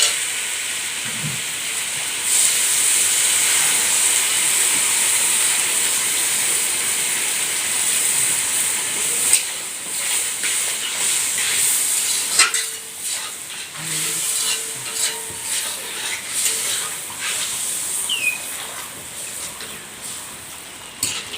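Water poured into a hot pan of Bengali small-fish curry brings a bright hiss and sizzle that settles into a simmer, broken by scattered clinks and stirring, with no talking.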